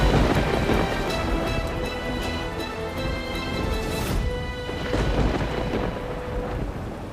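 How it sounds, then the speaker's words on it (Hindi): Heavy rain pours steadily and loudly while thunder rumbles beneath it, with a stronger roll about midway through the downpour. "बारिश भी नहीं रुक रही है।"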